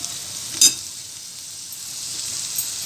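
Broken potato pieces for a Marathi potato bhaji fry in a pan with a steady, close sizzle. A brief clatter from stirring comes early, and no one speaks.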